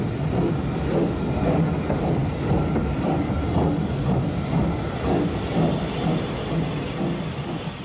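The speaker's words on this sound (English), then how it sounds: "A second T9, also allocated to Oakhampton, draws number 30715's train out of the station" A Drummond T9 steam locomotive, allocated to Okehampton, draws a passenger train out of Tavistock station in 1960, giving a steady rolling rumble with faint rhythmic clatter of wheels and carriages, moderately loud and continuous, with no talk.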